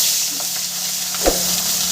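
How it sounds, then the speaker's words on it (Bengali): Bata fish frying in hot oil, a loud close crackling sizzle with a brief sharper spit and knock partway through. "তেল গরম হয়ে গেছে এবার আমি মাছটা সুন্দর করে ভেজে নেব"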